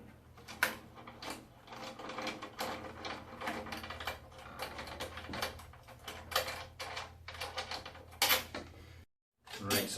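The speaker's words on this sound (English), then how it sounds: "This is the last tension bolt to come off. And we'll take off the hoop, die cast" Metal tension bolts being unscrewed and a die-cast hoop lifted off a wooden-shell snare drum, giving a run of close, irregular clicks, ticks and light metallic rattles with a brief silent gap near the end.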